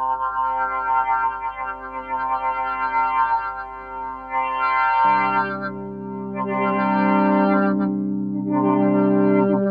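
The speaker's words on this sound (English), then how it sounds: "So it sounds a bit like this if you modulate the filter." A Super 6 synthesizer sustains a rich, buzzing tone while its filter is swept by LFO1, giving a repeating, pulsing wah-like movement that grows fuller and louder after midway; no voices.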